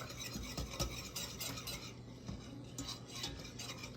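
Chocolate is whisked into milk for a chocolate cream pie, a quiet, continuous swishing and light metallic ticking of the whisk against the bowl, close up with no talking.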